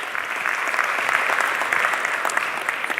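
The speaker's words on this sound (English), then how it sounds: "Another round of applause for our panel." Steady applause from a roomful of people, brisk even clapping throughout with no voices.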